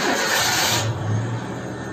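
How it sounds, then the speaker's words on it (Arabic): A car engine cranks and catches in neutral, a steady broadband roar that drops into a lower, even idle hum partway through, close and loud with no talk. "ها هي اشتغلت معنا السيارة بشكل عادي"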